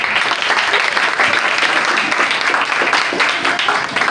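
Audience at a mental health session at ibex Islamabad breaks into loud, sustained applause, the clapping dense and continuous throughout with a faint voice or two mixed into the crowd noise.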